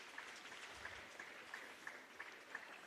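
Audience applause at a pharmaceutical conference opening ceremony, a faint, steady patter of many hands clapping from a distance with a few sharper claps standing out.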